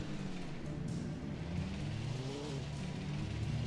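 A car engine in Alan Wake, revving and shifting pitch in a continuous low rumble with rising and falling tones, close and fairly steady.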